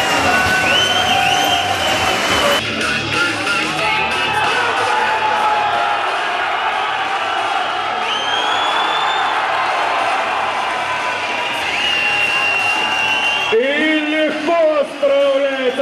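A large crowd at a world powerlifting championship roars and cheers loudly and continuously, with whoops and shouts rising over a dense wall of noise, a voice briefly calling out near the end.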